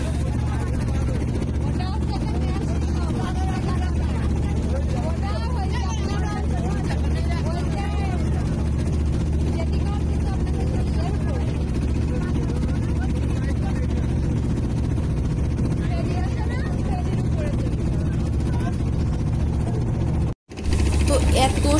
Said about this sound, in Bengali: তো এত শব্দ হচ্ছিল, যেহেতু এই যে নৌকাটা মেশিনে চলতেছে, তো অনেক শব্দ